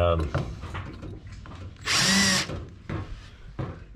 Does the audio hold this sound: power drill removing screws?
yes